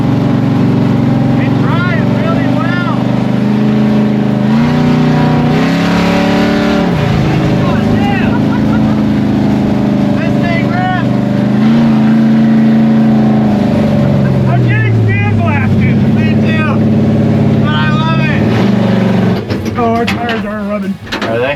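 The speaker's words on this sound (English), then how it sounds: "we're driving the Barracuda" A Plymouth Barracuda's engine roars loud and close from inside the moving car, a heavy continuous rumble that rises and falls with throttle, while people talk over it.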